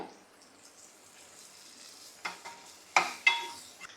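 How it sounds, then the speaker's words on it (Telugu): Ginger garlic paste fries with onions in a pan for a small prawn curry, a faint low sizzle punctuated by a few louder spatula stirs and scrapes near the end. "అల్లం వెల్లుల్లి పేస్ట్ అయితే ఫ్రై అయిందండి"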